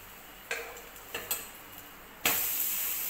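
A potato thalipith frying in a pan after being flipped, a low steady sizzle broken by a few sharp clicks and knocks of a utensil, then a louder hiss of frying in the last second.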